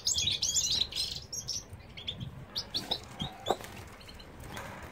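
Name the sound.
goldfinch singing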